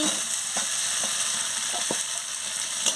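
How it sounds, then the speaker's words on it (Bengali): Potato and pointed gourd fry with mustard in a pan for a posto dish, under a continuous loud sizzle with a few soft spatula taps and stirs. "এবারে আলু আর পটলটা কষানো হয়ে গেছে, আলু আর পটলটা দিয়ে দিচ্ছি।"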